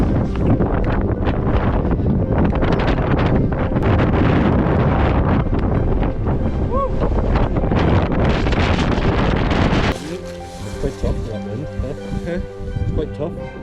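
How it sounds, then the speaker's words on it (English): Strong wind buffets the microphone on a mountain hike to Powell Hut on Mount Holdsworth, New Zealand, with loud continuous roaring gusts that ease slightly near the end. "quite tough with that wind."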